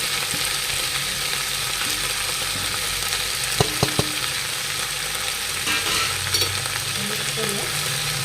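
Fenugreek leaves and moong dal being stirred in a pan give a steady, dense frying hiss throughout, with a few brief scraping knocks of the spoon near the middle and no talking.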